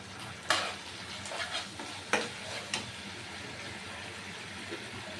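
Chilli chicken with black pepper being stirred in a pan, a few scraping spoon strokes over a low steady sizzle, fairly quiet and close, with no voices.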